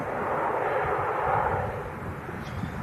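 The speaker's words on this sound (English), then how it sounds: "Urini ATR 72 coming in from Guernsey, just touching down 2-3 right." An Aurigny ATR 72 turboprop touching down on the runway, a steady moderate engine drone with low rumble, fairly near and unbroken for a few seconds.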